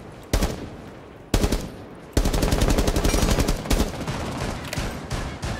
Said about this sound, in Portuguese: Muita gente atira no mesmo tempo